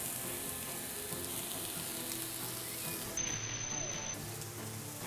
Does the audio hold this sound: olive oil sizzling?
yes